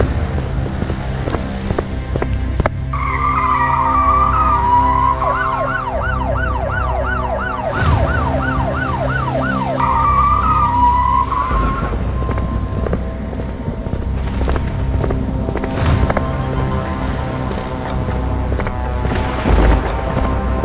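A police car driving off with its siren going, a loud wailing tone that shifts into a rapid yelping sweep before returning to a slow wail, with gusty wind noise underneath.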